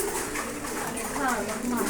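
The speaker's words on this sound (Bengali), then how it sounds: "খালি কবুতর দেখানো হবে আজকে টপ টপ কোয়ালিটির কবুতর" Fancy high-quality pigeons kept for sale coo softly in a loft, a low warbling call that sits within steady background noise and chatter.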